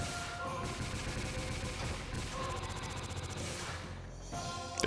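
Missile launchers firing in the Dark Cloud 2 video game, heard as a continuous, dense stream of rapid launch blasts layered over game music.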